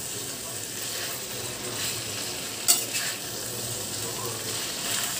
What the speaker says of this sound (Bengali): নুন দিয়ে আবার সব মাংসের সাথে একটু মিশিয়ে নিচ্ছি।